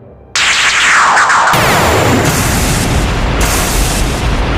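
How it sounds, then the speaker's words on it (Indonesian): A palace roof bursts apart in a sudden loud explosion effect that erupts after a brief quiet, followed by a sustained crashing roar with further surges of debris noise. "atap istana tiba-tiba jebol dengan suara ledakan yang mengguncang seluruh ruangan"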